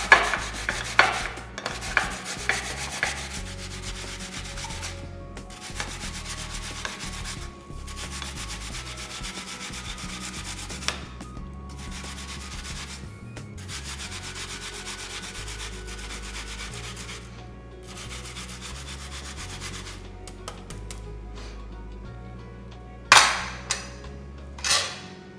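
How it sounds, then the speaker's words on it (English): A peeled Honeycrisp apple is rubbed across a grater in close, repeated rasping strokes. The strokes come in bursts, with short pauses and a few sharp knocks near the end. "Now we're going to grate our apple."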